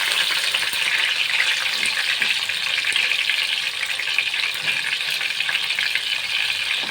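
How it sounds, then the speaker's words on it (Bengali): Frozen chicken pieces fry in a pan with oil, giving a continuous, close, crackling sizzle that holds steady throughout, with no talking. "দেখুন এই পর্যায়ে ভাজা হবে।"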